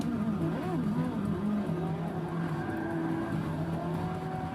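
A Porsche driven at night in the racing game Forza 6, its engine holding a steady, sustained drone throughout, with shifting tonal harmonics as the revs rise and fall. A faint tire squeal may come through.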